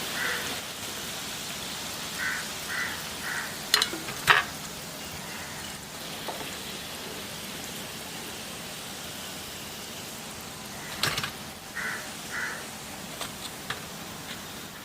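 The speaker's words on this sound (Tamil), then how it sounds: "இப்போ நம்ம மிச்சத்தையும் பொரிச்சுக்கலாம்." Potato fries deep frying in hot oil, a steady soft crackling sizzle throughout with a few sharper pops and clinks, moderately quiet and without speech.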